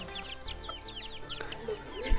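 Chickens cluck in quick, scattered bursts at close range in a roadside village in rural Laos, with soft rustling and background noise between the calls.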